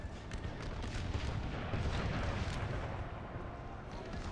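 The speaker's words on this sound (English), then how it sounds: "Some ripping fire right there." Massed rifle volley fire in Total War: Napoleon with an American Civil War mod, a dense, continuous crackle and rumble of overlapping shots and booms, loud and sustained throughout.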